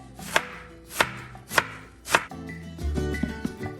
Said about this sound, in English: I've got half a head of cabbage that I'm going to thinly slice